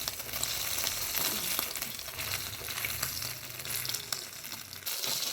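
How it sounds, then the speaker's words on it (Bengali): Cheese spinach rolls fry steadily in a pan, a dense continuous sizzle with faint crackles and occasional light clinks of stirring, close and fairly even throughout, with no voices. "আমার ভাজা হয়ে গেছে, আমি গ্যাসটা অফ করে দিলাম আর রোলগুলোকে আমি তুলে নিচ্ছি।"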